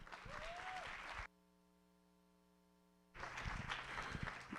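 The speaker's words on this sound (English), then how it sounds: "we're gonna give Megan another round of applause because she is amazing" Clapping crowd noise at a human trafficking awareness conference cuts out abruptly into a low electrical hum, then bursts of applause return.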